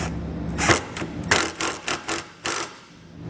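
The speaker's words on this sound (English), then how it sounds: "we'll come back with a 7/16 size socket and snug it up" Socket wrench with a 7/16 socket snugging a nut while fitting a hidden trailer hitch on a 2020 Mazda; a series of short, crisp metallic ratchet bursts in uneven rhythm, close up, no talk.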